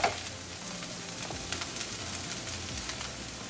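Jeera arbi pieces of taro root sizzle in a pan over high gas: a steady, moderately quiet frying hiss with soft crackles and a few light stirring scrapes, close by and with no talking.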